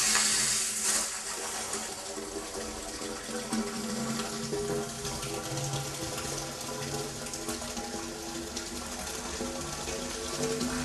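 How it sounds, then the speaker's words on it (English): Water poured into a tank on a liquid-level test rig with a pressure gauge and sight glass, a steady continuous wash of flowing, splashing water heard close and alone throughout. "now let's put some water in here"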